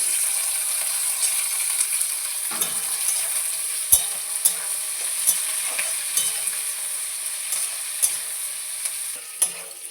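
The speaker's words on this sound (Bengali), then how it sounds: "এবারে ক্যাপসিকাম দিয়ে দেবো বড় বড় করে কেটে রাখা" Capsicum cut into large pieces is stir-fried for chilli paneer, with a continuous close sizzle and a few sharp spatula scrapes and taps against the pan at irregular moments.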